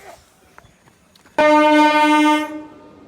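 A loud, sustained train horn blares for about a second as a train pulls into a station, after quieter background rumble and clatter, then cuts off.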